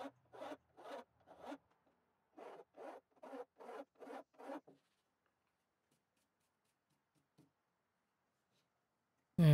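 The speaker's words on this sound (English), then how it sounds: "And then I come in with this little file and round over the fret ends." On a custom guitar build, a small hand file rounds over the fret ends with short, rasping strokes. Two close bursts of about four to five strokes each are separated by a pause and followed by quiet.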